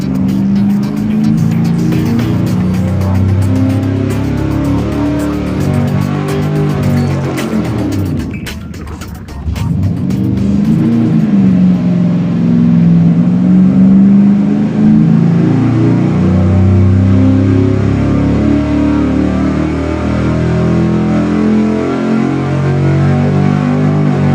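Small block V8 roaring through repeated dyno pulls, loud and sustained with rising revs, a brief dip near nine seconds, then climbing again to a steady high-rpm howl, no talk.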